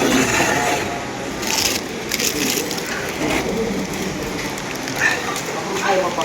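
Rain pours steadily in the Buscalan mountains of Kalinga, a dense continuous hiss with patters and thuds on nearby surfaces, while people talk faintly underneath.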